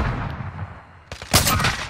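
A video game gunshot rings out: a low ambient rumble, then a sharp, loud burst of gunfire partway through that quickly decays.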